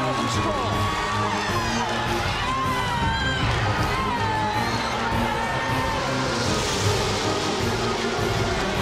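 A huge crowd of 170,000 at a restrictor-plate stock car race cheers and whoops in a dense, sustained roar, loud throughout, with scattered shrill yells rising above the mass.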